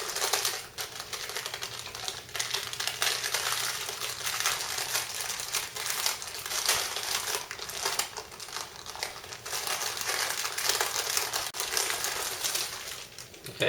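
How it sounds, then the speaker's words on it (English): Parchment paper is lifted and rolled up around a vegan, gluten-free jelly roll sponge cake, making a steady stream of close, dry crinkling and rustling with no pauses and no voices. "we're just going to lift the parchment paper and just carefully roll it up"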